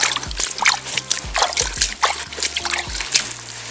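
Water being poured during a fishing trip, splashing and trickling up close in uneven gushes for a few seconds.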